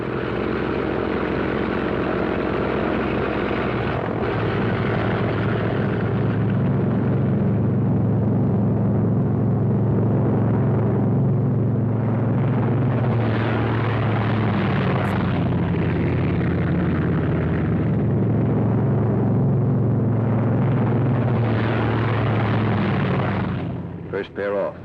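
A pair of Thunderbolt aircraft take off with a loud, continuous engine roar that swells and ebbs slightly over the whole stretch, close and dominant.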